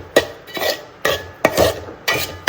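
A spoon scrapes and clatters around a pan of frying food during festival cooking, with four or five distinct rhythmic stirring strokes, close and fairly loud, and only a faint sizzle underneath.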